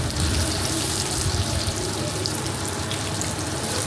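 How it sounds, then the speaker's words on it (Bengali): Eggs frying in hot oil give a steady, close sizzling hiss that keeps an even level throughout, with no voices over it. "ডিমগুলো ভেজে তুলে নেব।"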